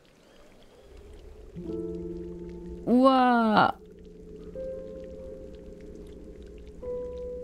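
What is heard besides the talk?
rainbow rain falling in video game Chicory: A Colorful Tale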